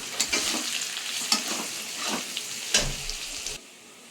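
Potatoes and onions sizzle in a pan with salt and turmeric, scraped and stirred in several distinct strokes over a steady frying hiss, close up and alone until the sound cuts off near the end.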